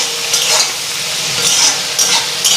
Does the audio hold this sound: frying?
yes